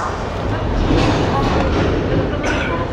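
Aboard the 12056 Dehradun Janshatabdi passenger train departing Ghaziabad on a curve, a continuous broadband rolling rumble and rattle of the moving coaches fills the space at fairly loud level.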